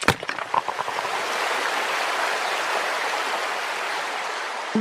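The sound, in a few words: water flowing out of a hole in a tunnel wall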